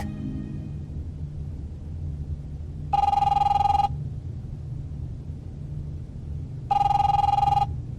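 A telephone rings in The Wolf Among Us video game, two loud, close electronic trills a few seconds apart over a low background rumble.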